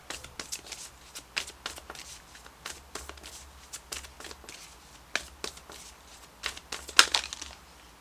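Moonology Oracle cards are shuffled by hand in a string of soft, close card slaps and rustles, uneven in rhythm and fairly quiet, with no talking.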